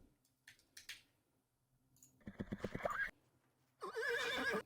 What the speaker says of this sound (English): Got some horses.